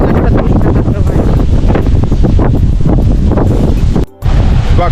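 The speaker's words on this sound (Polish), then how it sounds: "Wiatr wieje." Strong wind buffets across a wild beach on the Puerto Rico coast, a loud, steady roaring rush with gusty surges and a brief drop near the end.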